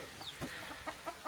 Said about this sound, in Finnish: Kotkotus kuuluu.